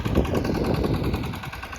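A tractor engine runs steadily during groundnut sowing work on a farm, giving a close, continuous, loud rumble that stays even throughout with no voices.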